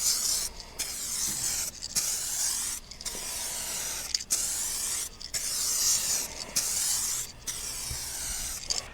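An aerosol can lays a coating onto car headlights in direct sunlight, heard as about eight sustained hissing bursts, each around a second long, separated by short pauses. No voices.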